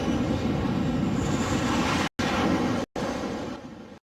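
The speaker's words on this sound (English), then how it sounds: "he guides the speeding plane towards the flight deck" Jet plane landing on the flight deck of the USS Ronald Reagan aircraft carrier, a loud continuous engine roar and rush of air, briefly cut out twice before fading slightly.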